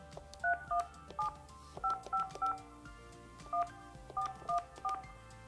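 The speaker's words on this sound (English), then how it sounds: "simply dial the number and pick up the handset." Yealink desk phone keypad sending DTMF dialing tones: a quick series of distinct two-pitch beeps in uneven clusters, clear and close with no talking, short gaps between bursts.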